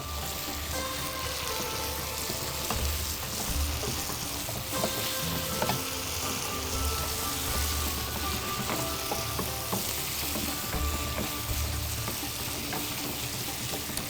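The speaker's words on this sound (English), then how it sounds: "The meat goes in and we mix it up on high heat" Meat for Thari Gosht stir-fried on high heat in a pan: a steady, dense sizzle and crackle with occasional scraping and stirring clatter, continuous throughout with no talk.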